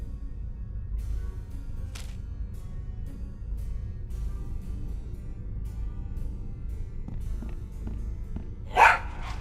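A single short, barking cough from a cartoon pirate character with a cold bursts out near the end of a quiet stretch of low background hum in the Tales of Monkey Island video game, sounding much like a dog's bark.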